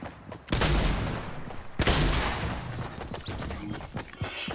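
Shotgun fire in a video game: two loud, booming blasts about a second apart, each followed by a rumbling tail and scattered smaller shots.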